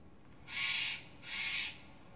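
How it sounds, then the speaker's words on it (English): A Steller's jay outdoors in Vancouver gives two harsh, raspy calls, each about half a second long with a short gap between, clear over faint background noise. "What bird this sound is coming from? Stellar's Jay."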